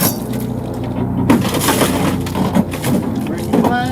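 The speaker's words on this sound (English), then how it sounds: "Breaking glass." Car window glass shatters and crunches during a rescue extrication on a vehicle resting on its roof, with loud close cracks and crumbling fragments amid voices and shouted callouts.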